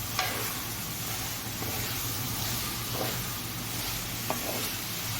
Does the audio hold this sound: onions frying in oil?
yes